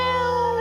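A voice imitates a cat's yowl, one sustained, strained meow-like cry held loud and close for under a second.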